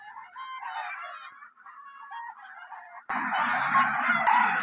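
Geese and ducks kept alongside chickens on an organic farm honk and quack in a steady, overlapping chorus that swells louder and denser in the second half, close by and with no voices.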